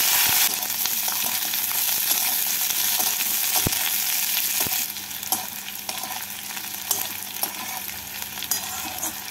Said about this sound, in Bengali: পেঁয়াজ আর ক্যাপসিকাম ভাজা হয়ে গেছে,